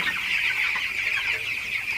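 Broiler chickens cluck in a poultry shed, a dense overlapping chorus of many birds heard close and steady for about two seconds without talk.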